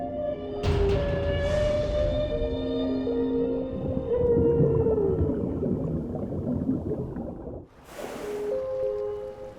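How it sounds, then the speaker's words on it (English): A male humpback whale sings underwater, long tonal moans and rising, falling cries layered over a dense rushing ocean wash, with a sharp broadband burst near the end before the song resumes. "A male humpback whale, a singer. His complex and haunting song can be heard for miles underwater."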